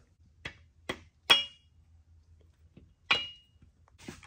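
Metal main bearing caps are fitted onto a Ford 360 FE engine block, a few sharp separate clinks and knocks with quiet gaps between them.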